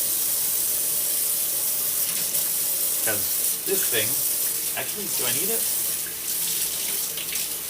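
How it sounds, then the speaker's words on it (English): A kitchen tap runs steadily and loudly while an immersion blender is washed under it, a constant hissing stream that fills the clip as someone talks over it. "So, just washing my immersion blender."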